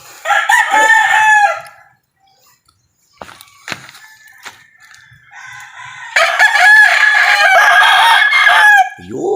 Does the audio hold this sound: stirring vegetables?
no